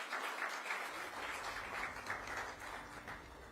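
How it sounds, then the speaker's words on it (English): Steady applause from a crowd at a policy conference in Delhi, a dense wash of clapping that holds at an even level throughout without any voices. "Please give a huge round of applause to our partners today,"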